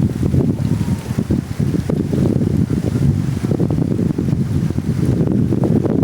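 Strong wind gusts buffet the microphone in a village as rain approaches, a loud rumbling, low roar that swells and eases unevenly without any speech.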